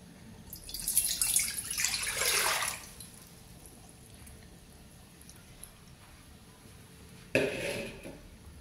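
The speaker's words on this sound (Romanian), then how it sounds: "voi pune 1 litru de apă." Water is poured from a container into a cooking pot while pickled green tomatoes are being prepared: a rushing splash lasting a couple of seconds, then quiet, then a second short pour near the end.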